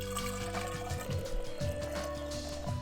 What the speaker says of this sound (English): fill it up with deionized water